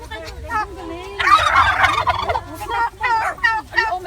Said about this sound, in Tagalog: Ang daming pabo, guys.